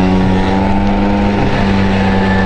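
A Honda Dio 27 scooter's small engine drones loudly and steadily while riding off, a close, continuous buzzing hum with no talking.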